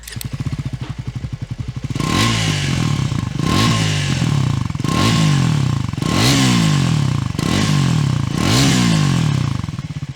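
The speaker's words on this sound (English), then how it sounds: "Triumph says that they have tuned the exhaust to sound a little more rotty on this" A Triumph Scrambler 400 X motorcycle with a tuned twin-barrel exhaust idles with a steady thrum, then is revved hard five or six times in a row, each loud rise and fall close by.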